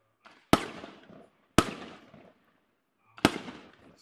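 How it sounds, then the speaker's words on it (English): Neighborhood fireworks at New Year burst in three loud, sharp explosions, two close together and a third after a longer pause, each followed by a crackling decay that fades to near silence. "Let us see the fireworks here."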